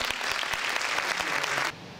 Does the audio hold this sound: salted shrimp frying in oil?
no